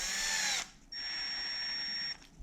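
Power drill whirring in two bursts as it drives screws into an Arrma LSD differential, a short high whine followed by a longer steady tone after a brief pause, close and clear.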